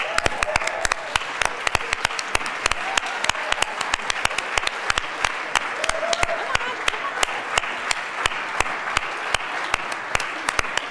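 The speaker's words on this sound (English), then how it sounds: "I would like us to give them a huge round of applause" Legislators in the Colorado House chamber give a sustained round of applause for legislative staff, steady dense clapping with sharp individual claps standing out near the microphone.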